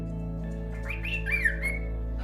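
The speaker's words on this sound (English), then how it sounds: "Hi, little bird." A pet bird inside a house gives a brief rising and falling squawking whistle, fairly close, over a steady low background hum, with no one talking.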